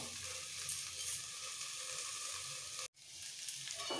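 Beans and potato vegetable sizzling in a covered pan over a gas flame, a steady faint crackle and hiss throughout, dropping out for a moment before carrying on.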